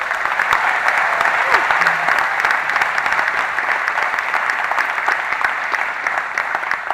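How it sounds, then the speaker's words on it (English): A large audience at a city's State of the City address applauds steadily for a symphony and young artist orchestra after their opening performance, a dense, even wash of clapping that holds throughout without pause. "Can we all give them a round of applause?"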